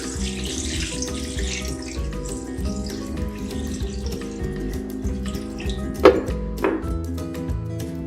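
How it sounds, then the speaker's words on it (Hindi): Water runs into a cooking pot (degchi) already holding mutton trotters for paya, a continuous close splashing stream with a couple of louder gushes near the end, layered over background music. "फिर हम पानी डाल रहे हैं।"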